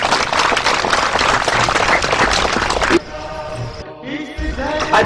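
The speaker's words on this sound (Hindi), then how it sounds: "आप सब जोरदार ताली बजाएंगे बहन जी के लिए।" Audience applause for a Brahma Kumaris speaker at a stress-relief meditation camp, loud sustained clapping that stops abruptly partway, leaving quieter room sound and faint scattered noise.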